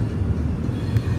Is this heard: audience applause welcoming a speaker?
no